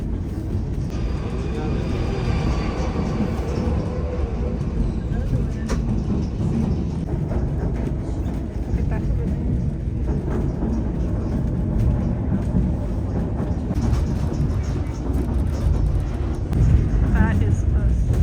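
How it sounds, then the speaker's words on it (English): A train rolls past on the Skagway railway while the listener waits on a siding track, a steady broadband rumble that holds throughout at a close, even level, with people talking over it. "there will be one more train passing us by here to the left"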